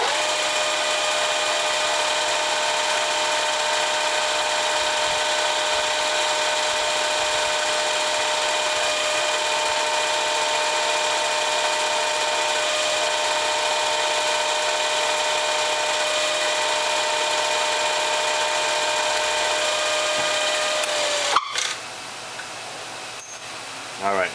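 A power drill drives in a fastener for a BBQ support part, a steady close motor whine that holds for about twenty seconds, then stops abruptly, followed by a few faint knocks.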